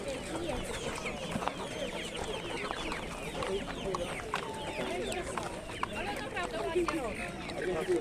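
Chickens cluck and squawk in a dense, continuous chorus at a busy outdoor poultry market in Michów, where pigeons, ducks, geese and turkeys are also sold, with people talking throughout.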